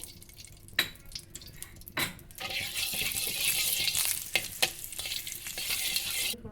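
Cumin seeds dropped into hot ghee in a pan burst into a bright, crackling sizzle that holds steady for several seconds, with a few clinks and stirring knocks at the start and no talk.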